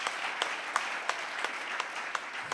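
A church congregation claps hands together, a dense crowd patter with a steady beat of about three claps per second, filling the room without speech.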